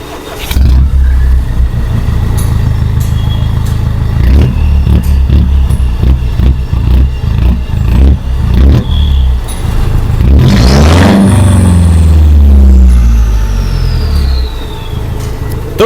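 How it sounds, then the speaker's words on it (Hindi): A Mahindra Thar diesel engine with a modified custom exhaust cranks on a cold start and catches, then idles roughly and revs repeatedly, ending in a long loud rev. The sound is close, deep and throaty throughout. "अब एक बार इसका कोल्ड स्टार्ट दिखाता हूँ मैं यहाँ से आपको।"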